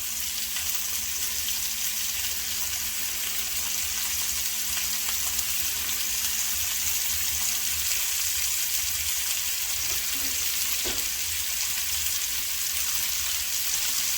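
Meat searing in a pot for a Southern pot roast, a steady broadband sizzle and hiss holding level throughout, with a couple of faint clinks of a utensil near the end.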